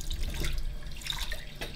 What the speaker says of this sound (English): you start by filling up the sink with tepid water